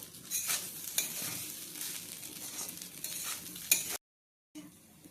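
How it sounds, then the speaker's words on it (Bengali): Fried rice with a little sugar being stirred in a pan, a steady hiss of frying under repeated spatula scrapes and taps, with a brief cut near the end. "চিনি দিয়ে ভালোভাবে নেড়ে ছেড়ে আমাদের ভাত ভাজা একদম রেডি"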